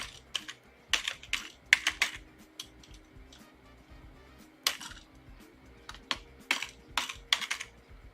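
Computer keyboard keys clatter in irregular bursts of quick taps separated by pauses while names are typed, close and fairly crisp, with no talking.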